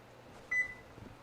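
A single short electronic beep from a kitchen timer or microwave, clear but moderately quiet over faint room noise, with no talking.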